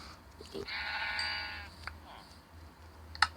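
A sheep bleats in Minecraft, one wavering, nasal cry lasting about a second over a low game hum, followed by a short click.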